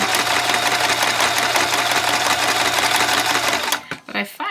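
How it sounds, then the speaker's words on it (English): Sewing machine stitching a junk journal cover, run by hand rather than foot pedal, a fast steady mechanical whirring and rapid needle clatter that stops abruptly near the end, followed by a brief voice. "I can control the speed of my sewing machine a little bit better by sewing with my hand, not my foot."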